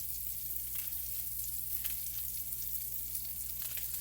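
Onions frying in a pan for a salmon, peppers and onions dish give a steady, quiet sizzle with soft crackling pops throughout, under a low constant hum and with no voices.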